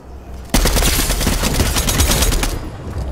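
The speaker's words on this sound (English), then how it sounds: "there's gunshots up here" A rapid burst of close gunfire, loud rattling shots in quick succession lasting about two seconds, from the video game Fortnite.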